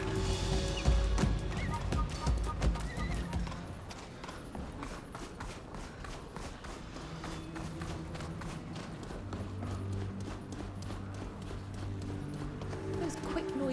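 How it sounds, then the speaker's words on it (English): Quick, noisy footsteps of a guard in the video game Greedfall 2 clatter in a rapid, steady run beneath a busy wash of game ambience and background sound, continuing through the whole stretch. "Those quick, noisy footsteps are typical of the guard."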